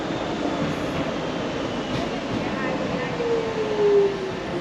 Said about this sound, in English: these DLR trains, Docklands Light Railways, little red trains, maybe 3 carriages or so, but they're all driverless